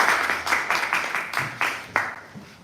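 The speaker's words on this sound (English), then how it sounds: "Big round of applause." Workshop audience at a live aquascape demonstration in an aquatics store in Cardiff gives a short burst of applause, a thin patter of scattered clapping from a small group nearby, fading within a few seconds.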